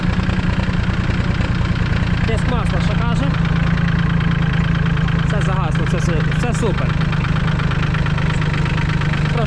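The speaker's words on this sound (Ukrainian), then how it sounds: "Насос підкачки качає. Як годинник. Тракторець працює." A Solis 26 mini tractor's small diesel engine idles steadily with a low, even chugging rhythm, while a person talks intermittently over it.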